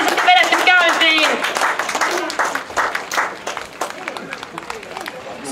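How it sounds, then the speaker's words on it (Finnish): Outdoor crowd applause for a team at a tractor pulling contest, loud clapping and cheering mixed with an amplified announcer voice speaking over it, fading somewhat toward the end. "Mahtava aplodit hei tälle porukalle"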